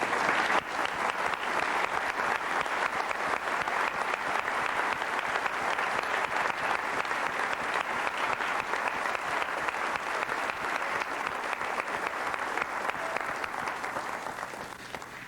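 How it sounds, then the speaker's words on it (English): Sustained applause from a large audience, dense and even throughout, fading slightly at the end. "Will you all please stand up and receive our applause?"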